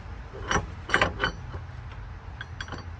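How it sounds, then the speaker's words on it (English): Lug nuts are fitted onto extended wheel studs on a Mazda RX7, heard as a few soft metallic clinks and ratcheting clicks spaced apart, close by and fairly quiet. "All right, so we're gonna put some lug nuts on here."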